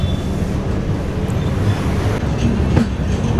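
Humsafar weekly express pulling out of Renigunta junction: a steady, close rumble of wheels on rails with faint rhythmic clatter and occasional metallic squeals, loud and continuous throughout.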